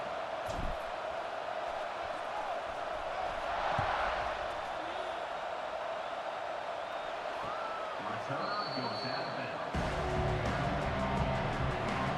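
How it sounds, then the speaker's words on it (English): Simulated stadium crowd noise in a college football video game, Auburn vs Utah, forms a steady roar and murmur behind the action. It swells briefly a few times, with scattered game sounds layered over it. "this crowd now ready to get behind them"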